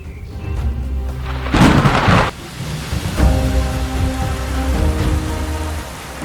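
Rain pours steadily on the Serengeti grassland with a low thunder rumble underneath, swelling into a louder, denser burst of rainfall before settling back to a continuous hiss.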